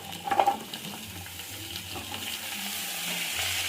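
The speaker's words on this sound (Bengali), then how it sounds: "সজনে ডাঁটাটা আলুর সঙ্গে আবার একটু ভাজা ভাজা করে নেব।" Potato pieces and moringa drumsticks fry together in a pan, giving a soft, steady sizzle with a brief louder burst of stirring near the start.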